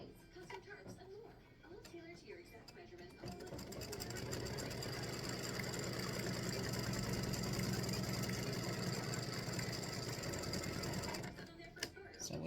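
An embroidery machine stitches placement outlines for six Tic Tac Toe game pieces on a Halloween board set, a fast, steady, close mechanical whirring hum that starts, holds for several seconds and stops near the end.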